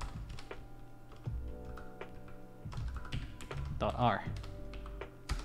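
Computer keyboard typing in bursts of short clicks and taps, close and moderately loud, mixed with a person speaking throughout.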